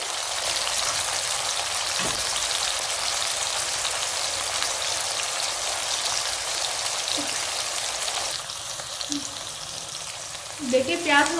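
Onions frying in a pan for chicken white karahi, a continuous loud sizzle with steady crackle throughout and a few stirring knocks near the end.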